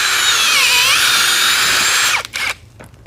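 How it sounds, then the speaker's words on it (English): A 3-inch bulb auger on a drill bores a planting hole in a garden bed, whining loud and steady with a pitch that dips and recovers, then cuts off abruptly with a short rattle at the end. "Every hole starts with the auger. It's a 3-inch bulb auger"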